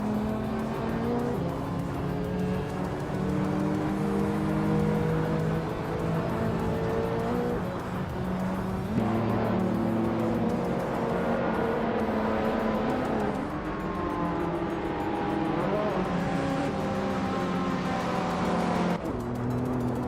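Race cars in a video game race, with engines revving and whining continuously up and down through gear changes, along with occasional tire squeals, loud and sustained without pause.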